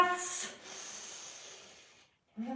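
Deep breathing during a yoga session: a loud sharp inhale, then a long soft exhale fading out, followed by the start of another breath.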